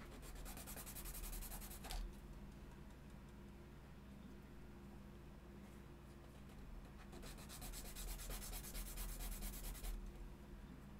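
A thin plastic strip is sanded by hand to put a bevel on it. Soft, quiet rasping strokes come in bursts with short pauses between them, close by, with no talking.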